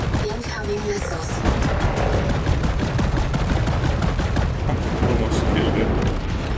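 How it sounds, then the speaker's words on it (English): Missile fire and explosions rumble through a War Robots: Frontiers battle, with dense rapid bursts and booms packed together continuously, loud and close, over a mechanical din. "Incoming missiles."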